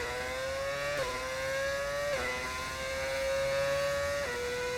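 Modded Formula 1 car engine in a racing video game, near and loud, screaming up through the revs with sharp gear shifts about once every second, repeating in a rising sawtooth pattern, with no talking.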